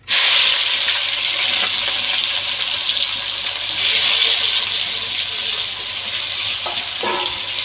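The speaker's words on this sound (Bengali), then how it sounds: "এখন পেঁয়াজ দিয়ে দিচ্ছি।" Onions tipped into hot oil in a home kitchen fry with a loud, steady sizzle that holds throughout, with a few faint clinks near the end and no talking.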